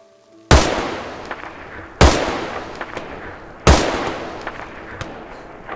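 Three loud, sharp rifle shots in DayZ, widely spaced, each with a long ringing tail and small clanks in between, with no talking.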